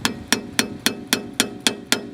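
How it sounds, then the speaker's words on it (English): Eight sharp, evenly spaced metallic hammer blows drive a flathead screwdriver into a car suspension pinch bolt to spread it while replacing an upper ball joint, close and loud with no talk. "hammer that in, which spreads that pinch bolt out"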